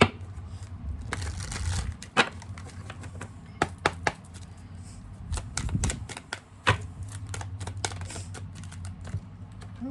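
Tarot cards being shuffled and drawn, a run of quick crisp riffling and tapping clicks with brief pauses between, close and quiet, with no talk.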